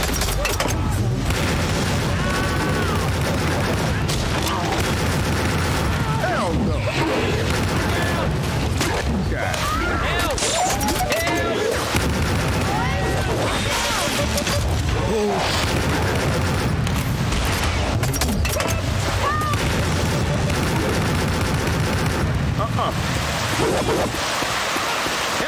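Gunfire rattles through a chaotic fight, sharp shots and booms scattered across a dense, rain-like wash of noise, with shouted voices breaking in over the din.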